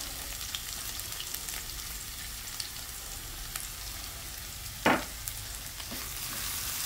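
Shallots, garlic and ginger sautéing in a pan, a steady soft sizzle filling the clip with one brief sharp clatter of utensil against the pan midway.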